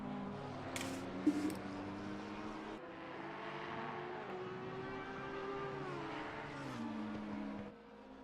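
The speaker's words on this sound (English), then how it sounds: "This car sounds so good in this game." A GT3 race car engine in a racing video game drones steadily with shifting pitch, rising and falling through gear changes, with a brief sharp burst early on.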